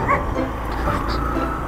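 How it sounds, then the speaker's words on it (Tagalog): Dogs barking and yipping nearby in a short burst, a few sharp barks over a steady low rumble of background noise. "Ang dami niya namang aso dito."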